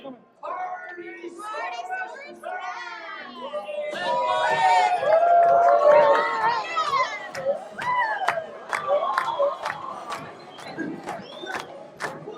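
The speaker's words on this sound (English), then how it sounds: "give a big round of applause for the one, the only, Party" A lively crowd of children and adults cheers, shouts and whoops for Partysaurus Tex at a Toy Story Land rodeo-themed barbecue restaurant, with scattered clapping and excited voices building to a loud peak before thinning out.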